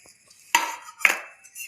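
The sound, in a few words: stirring raw mango pickle pieces in a vessel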